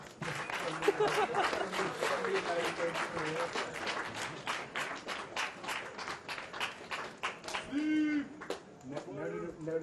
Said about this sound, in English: Let's get a big round of applause for our final tablists.